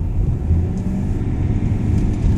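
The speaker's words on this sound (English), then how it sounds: "And braking hard to try and clean the brake discs up." A car rumbles steadily as it accelerates and then brakes hard, its engine a low continuous drone with no clear peaks, heard close and alone.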